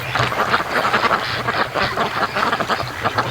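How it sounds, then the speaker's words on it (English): Muscovy ducks crowd together in a morning rush, their many soft, raspy quacks and huffs overlapping in a busy, continuous chatter close by, loud and steady with no talk. "That's the morning duck rush"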